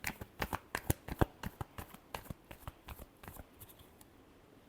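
Tarot cards shuffled by hand in a rapid run of crisp riffling slaps that tapers off into quiet, close and clear with no voices.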